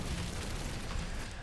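Explosion in DOOM Eternal, a sustained low, rumbling roar that stays loud and dense through its length with no clear separate hits, heard alone.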